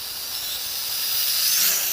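XK Alien 250 quadcopter drone in flight, a steady high-pitched motor and propeller whine that swells slightly louder toward the end, heard alone without voices.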